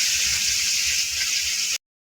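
Fish sizzles in hot oil in a wok (kadai): a steady, close, bright hiss with faint crackle runs for nearly two seconds, then cuts off abruptly to silence.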